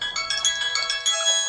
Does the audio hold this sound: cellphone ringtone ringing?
yes